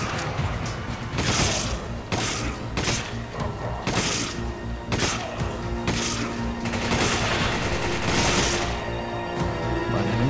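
Bursts of machine gun fire in the survival horror game Resident Evil 5, loud rapid volleys repeating in clusters over about ten seconds with impacts and crashes mixed in.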